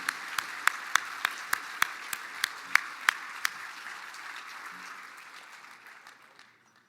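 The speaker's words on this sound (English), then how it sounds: "Let's give one more round of applause for our honorable veterans here today" Audience applause for honored veterans at the Mille Lacs Band of Ojibwe State of the Band address: a wash of clapping with sharp, distinct claps standing out early, steadily thinning and fading to quiet by the end.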